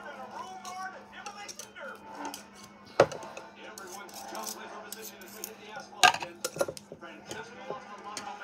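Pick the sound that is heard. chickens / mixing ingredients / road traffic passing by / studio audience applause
mixing ingredients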